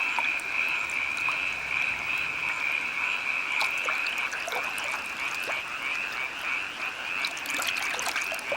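Fire-bellied toads and tree frogs calling at night, a steady shrill chorus of trilling croaks with sharper individual calls popping out near and far over a constant wet background.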